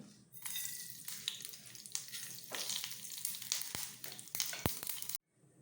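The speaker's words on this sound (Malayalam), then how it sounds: "ഇപ്പോൾ ഞാൻ തീയലിന് കടുക് പൊട്ടിക്കണേണ്" Mustard seeds spluttering and crackling in hot oil for Kerala theeyal, a steady close sizzle with sharp pops scattered through it, cutting off abruptly near the end.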